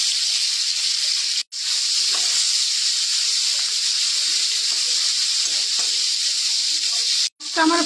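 Prawns rubbed with turmeric and salt frying in hot oil in a wok give a loud, steady sizzling hiss, broken by two brief gaps, alone without talk.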